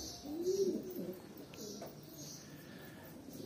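A pigeon coos softly nearby, a short low call over quiet background noise.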